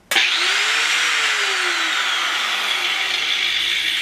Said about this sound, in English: I have my angle grinder plugged in and I'm gonna turn it on with these wires.